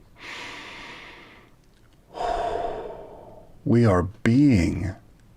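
Several deep, drawn-out breaths, each a long airy inhale or exhale, followed by two short voiced gasps, close and clear with no other sound.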